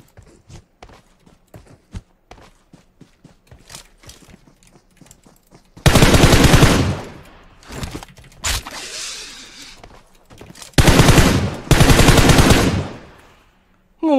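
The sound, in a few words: gunfire in a shooter video game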